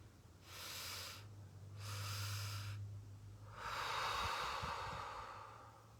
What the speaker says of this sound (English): slowly breathing out